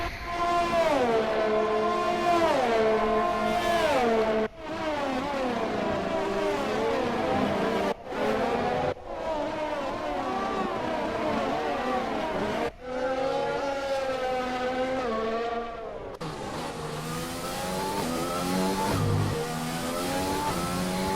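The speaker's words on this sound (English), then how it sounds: "Look at the back tyres of Shay Smithey's car." Formula 1 race cars on the Singapore Grand Prix street circuit in F1 2020, engines wailing loudly and continuously with rising and falling pitch through gear changes, several cars passing in close succession.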